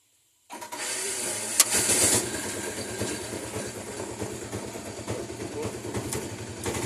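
An auto-rickshaw engine, started with a starter lever, fires up abruptly after a brief silence and settles into a loud, close, pulsing idle with a steady rhythmic low chug.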